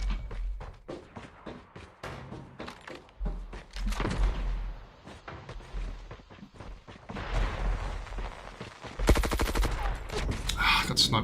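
Scattered sharp gunshots in an online shooter match, isolated cracks at irregular intervals, some near and some distant, rising into a louder burst toward the end, with a voice talking faintly in between.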